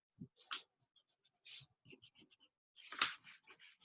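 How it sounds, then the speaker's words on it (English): Pencil helper lines being erased from a portrait drawing, heard as scattered short scrubbing bursts of varying strength, close and quiet, with brief pauses between strokes. "Now at this point, we could erase out our helper lines."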